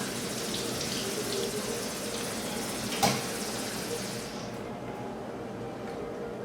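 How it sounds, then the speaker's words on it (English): A kefir grain is rinsed under running reverse-osmosis water, a steady close hiss of flowing water at a sink that thins out near the end, with a brief clink midway. "I'm going to rinse it off with RO water"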